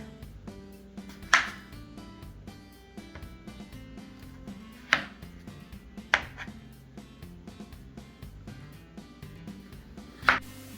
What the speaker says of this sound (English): I'm just going to chop them in half.